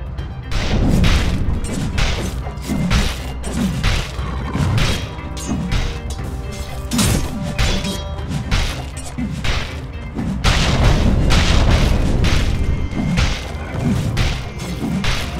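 Dota 2 combat at a middle tower is heard as a steady run of thuds, smashes and whooshing hits, loud and busy, with no voices over it.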